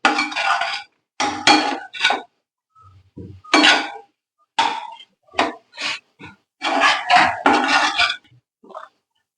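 A spoon stirs ginger garlic paste into masala in a pan for Kerala-style chicken curry, giving close, repeated scraping and clinking strokes in bursts with short pauses.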